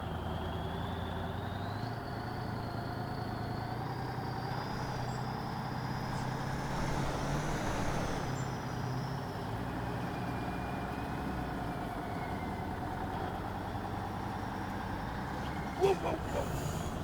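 A logging truck's engine drones steadily in the Spintires off-road game on the Tunguska Crater map, its pitch rising and easing as the throttle is worked, with a brief knock near the end.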